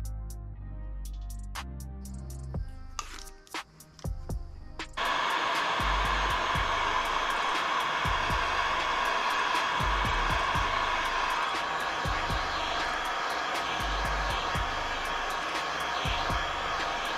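Heat gun or hair dryer warming 3M adhesive tape for a motorcycle helmet mount, starting after a few handling clicks and then roaring steadily up close in a loud, even whoosh.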